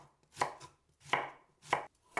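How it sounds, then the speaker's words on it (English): Knife chopping broccoli and red cabbage into small chunks on a cutting board, four crisp separate chops spaced at an unhurried, even pace, close and clear, with no talking. "Cut into small chunks 5 ounces of broccoli"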